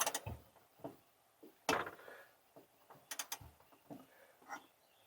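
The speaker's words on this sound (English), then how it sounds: "Now I'm going to put the torque wrench." A torque wrench set to 40 tightening rear coilover top nuts, giving soft ratcheting creaks and clicks in scattered bursts, close but quiet, with one sharper click partway through.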